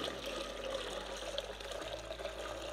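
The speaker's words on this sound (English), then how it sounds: "Just run that right through the strainer." Hot liquid for homemade Cajun boudin sausage being poured through a strainer, a soft continuous trickling pour under a low steady background hum, fairly faint and close.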